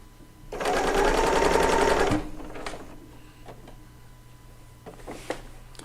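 A serger runs in one steady, loud burst of about a second and a half, quilting busy printed fabric, then stops. Quieter clicks and handling noises follow.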